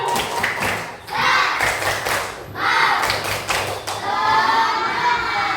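Students in a classroom perform a rhythmic spirit clap, bursts of patterned group clapping in repeated phrases with short pauses, loud and close, joined by children's shouts and cheers.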